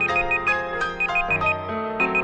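Electronic alarm ringing in the horror adventure game The Last Door, a repeating bright tonal chime pattern with shifting pitches, moderately loud and steady with no speech.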